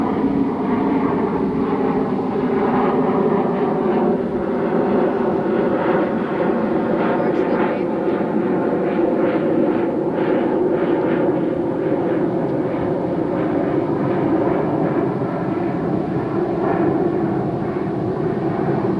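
Aircraft pass overhead at Ocean Beach, filling the clip with a loud, steady, broad jet roar that stays heavy from start to finish with no pause.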